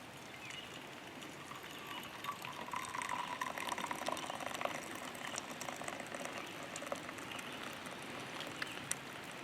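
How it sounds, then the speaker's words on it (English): Coffee is poured from a coffee pot at a lakeside fishing camp in Maine, a soft, steady liquid trickle and splash lasting several seconds beneath faint outdoor ambience. "We're getting ready to pour the coffee."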